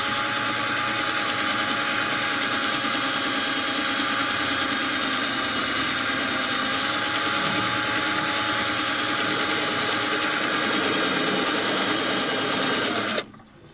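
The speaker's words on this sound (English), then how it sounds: "So now I've drilled that one through on the bench drill" A pillar drill bores through a brass part for a pigeon or owl bird hooter, giving a steady loud whine with a high hiss that runs unbroken until it cuts off abruptly at the end.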